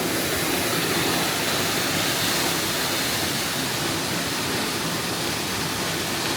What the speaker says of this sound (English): Look at the waterfall just flow on down through there.